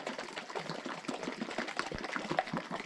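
Fine-glitter slime sloshes and squelches as a jar is shaken, a quiet, continuous wet churning with rapid uneven pulses.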